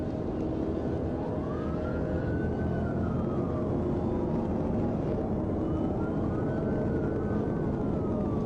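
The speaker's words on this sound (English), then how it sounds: "As the trooper activated his emergency lights and siren" A police car siren wails through slow rising and falling sweeps during a high-speed motorcycle chase, loud and continuous over a dense rumble of engine and road noise.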